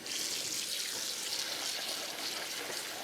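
Tap water runs steadily into a kitchen sink while raw chicken with the skin left on is rinsed, a continuous close hiss and splash lasting throughout with no talking.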